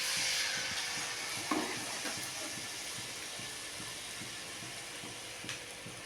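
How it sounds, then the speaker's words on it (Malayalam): Papaya fritters dipped in batter fry in hot oil, giving a soft, steady sizzle with a few faint pops and stirring sounds at low volume. "ഇനി നമുക്ക് പപ്പായ എടുത്ത് ഇതിലേക്ക് ഓരോന്നായിട്ട് മുക്കിയിട്ട് പൊരിക്കാം"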